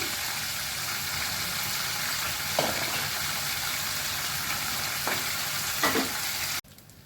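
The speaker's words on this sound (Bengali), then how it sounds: "সবকিছুই ভেজে দিচ্ছি" Parshe fish frying in hot oil in a home kitchen, a steady dense sizzle running throughout with a few brief clinks of a utensil, cutting off abruptly near the end.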